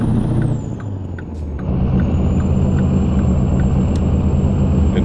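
Mack E9 V8 truck engine in American Truck Simulator: a loud, close, steady low rumble with a continuous whine above it, dipping briefly as the truck shifts before settling back into a constant drone, with no talking.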